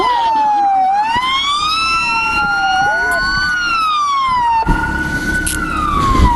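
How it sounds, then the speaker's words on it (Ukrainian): Ukrainian patrol police car siren wailing loudly and close, a steady rising and falling tone during an arrest at a traffic stop, with shouting voices underneath. "Вироби сирену!"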